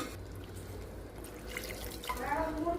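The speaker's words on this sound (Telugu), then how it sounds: "నాకైతే గ్రేవీ కావాలి, అందుకే కొంచెం వాటర్ పోసుకుంటున్నాను" Water poured into a pan of simmering potato curry to loosen it into gravy, a light splashing trickle rising toward the end of a short stretch over steady kitchen background noise.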